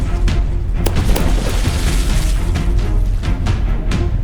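Heavy warship gun volleys in the From The Depths battleship game, repeated booming blasts and sharp cracks rolling over a dense low rumble, loud and continuous, with several distinct impacts spaced through the stretch.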